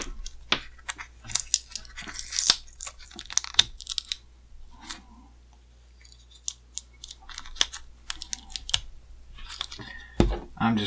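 A strip of tape being cut off a plastic GI Joe 50th Anniversary Night Marksmen toy case, heard as close, irregular snips, clicks and crinkling handling noises with brief pauses, and no talking.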